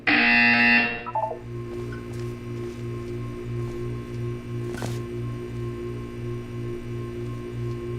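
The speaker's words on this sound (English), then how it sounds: "You will hear a buzzer. When you hear the buzzer, look up at the ceiling." In the video game Portal 2, a short electronic buzzer sounds at the start, followed by a steady pulsing low electronic hum and tone in the background.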